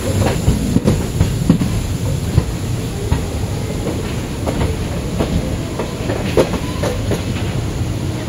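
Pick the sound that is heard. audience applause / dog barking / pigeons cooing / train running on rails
train running on rails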